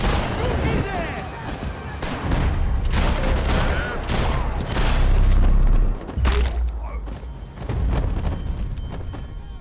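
Heavy sustained gunfire from the Max Payne 3 video game, dense overlapping bursts and booming shots at close range, with shouting voices mixed in.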